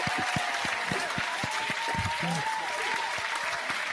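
A studio audience claps steadily for a few seconds on a Filipino talk show, the sharp, dense applause close and loud, with a voice briefly heard over it.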